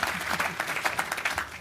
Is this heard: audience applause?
yes